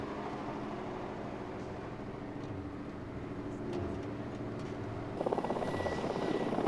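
Military helicopters flown by anti-Taliban forces take off and land near the Bamiyan cliff caves in Afghanistan in 2001, with a steady, fairly distant rotor drone that swells slightly near the end.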